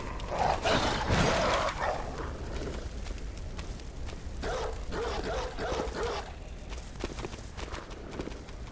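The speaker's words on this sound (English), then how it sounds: "But there's dogs. I don't like dogs." Dogs bark in the Bloodborne video game, a run of sharp, loud barks early on and again midway, over a busy game soundscape with footstep-like clatter.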